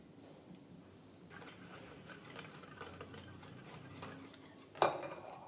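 A sugar mixture for muffin batter is beaten in a bowl until the sugar melts, giving quiet continuous scraping and whisking with a sharper clink of utensil on bowl near the end.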